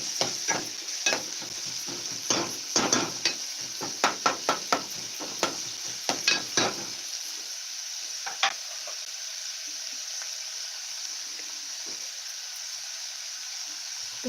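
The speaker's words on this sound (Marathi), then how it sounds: "चांगला लालसर होईपर्यंत कांदा परतायचा आहे छानपैकी" Onion sautéing in a pan until reddish, a steady sizzle broken by a quick run of sharp spatula scrapes and knocks in the first half, then settling into quieter hissing frying.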